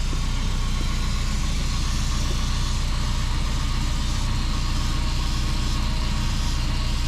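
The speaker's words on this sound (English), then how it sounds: "Let's listen to this fuel pump." A Volvo 240 fuel pump whines steadily with the key switched on, a constant mechanical drone that holds at the same level throughout, close and alone.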